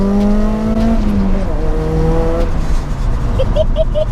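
A Nissan S13 pulls hard under turbo boost in third gear, its engine note rising steadily in pitch through repeated upward sweeps, loud and close, with a brief shift and further revving near the end.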